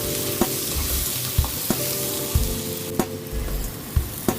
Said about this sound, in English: caramelize an insane amount of Bombay red onions until nice and golden brown